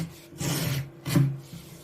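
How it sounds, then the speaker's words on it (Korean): Two long rasping strokes of a hand plane shaving the edge of a wooden top panel, close up, with a brief pause between them. "대패를 이용해서 상판 가장자리 라인 한번 살짝 밀어줍니다."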